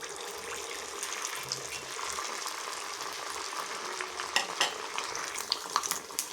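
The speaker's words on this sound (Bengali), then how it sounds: "তোমরা ঘিয়েও ভাজতে পারো, আমি সাদা তেলেই ভাজছি" A semolina snack fries in hot refined white oil, giving a steady low sizzle broken by sharper crackles and stirring clicks toward the end.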